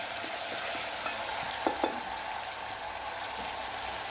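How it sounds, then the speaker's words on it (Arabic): Garlic with a spoonful of tomato paste fries in a pan, giving a steady, moderate sizzle with a couple of brief stirring clicks partway through, close and alone without talk. "كده معنا معلقة صلصة، هنديها تشويحة مع الثوم"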